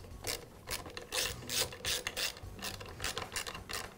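Nuts being tightened onto the studs of a Husqvarna leaf blower's airbox, a close run of quick ratcheting clicks in short bursts with brief pauses between.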